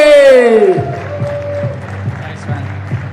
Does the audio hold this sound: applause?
yes